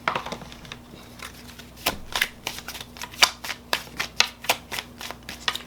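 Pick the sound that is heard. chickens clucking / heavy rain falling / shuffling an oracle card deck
shuffling an oracle card deck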